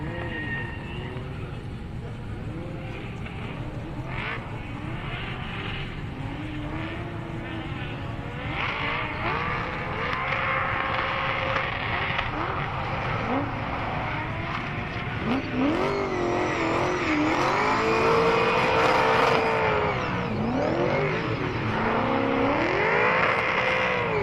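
A drift car at a Manfeild drift event revs and wails through a victory skid, the engine note rising and falling in long sweeps as it slides, with a commentator talking over the continuous roar.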